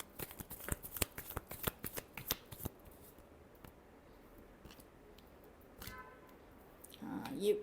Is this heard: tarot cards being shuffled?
yes